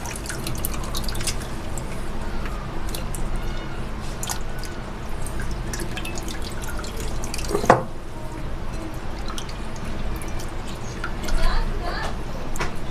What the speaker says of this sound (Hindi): हम इसको 2 पानी में धोएंगे।